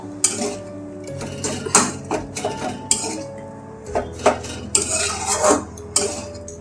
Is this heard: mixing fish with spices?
yes